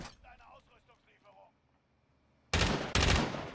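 In a shooter video game, two loud, abrupt gunshot bursts crack in quick succession after a stretch of quieter speech-like sound and near silence.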